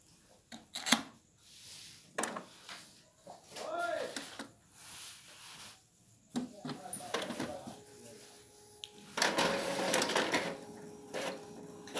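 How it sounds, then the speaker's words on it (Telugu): Epson L3150 inkjet printer printing a page, giving intermittent mechanical whirs and clicks as the carriage and paper feed move, with a voice speaking between the bursts. "ప్రింట్ తీసి చూద్దాం."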